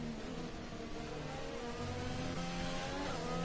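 Simulated McLaren GP2 race car engine at the Belgian Grand Prix, a steady high-pitched droning whine that holds level and close throughout, with slight pitch shifts and no voices.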